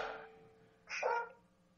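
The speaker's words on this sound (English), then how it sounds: "excellent, even dogs are participating." A dog gives a single short, faint bark at a distance, preceded by a brief soft burst of noise, in an otherwise quiet room.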